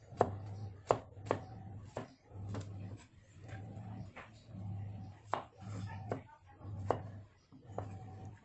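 Garlic being chopped with a knife on a board, steady rhythmic blade strikes roughly every half second, close and clear, with a low hum and a dog faintly whimpering in the background.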